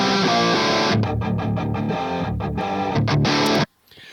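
A distorted electric guitar plays a chugging riff through a cabinet simulator with the virtual cabinet turned round, giving a dense, muffled, boxy tone with rhythmic palm-muted stabs, then cutting abruptly to near silence.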